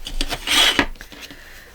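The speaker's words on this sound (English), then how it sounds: "That noise you hear in the background is the shredder going." A paper shredder runs in the background of a quiet craft room, giving a raspy, grinding burst that swells and fades within a couple of seconds.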